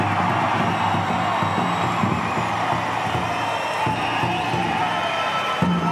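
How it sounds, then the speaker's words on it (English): A packed powwow audience cheers the men's fancy feather dancers with a sustained, loud crowd roar of shouts and whoops that stays level from start to finish, with an announcer's voice partly mixed in. "Cheer for the men's fancy."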